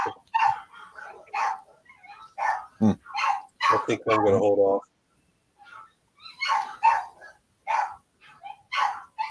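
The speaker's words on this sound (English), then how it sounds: "Gonna mute for the barking dogs here." Several sharp dog barks burst out in the middle of steady talking, fairly close, with a few yips around them.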